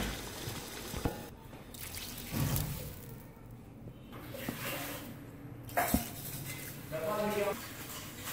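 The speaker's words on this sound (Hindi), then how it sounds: "अब मैं इसमें पानी डालने लगी।" Water splashes into a cooking pan of kofta curry in short trickling and dripping bursts, fairly faint, with someone talking over parts of it.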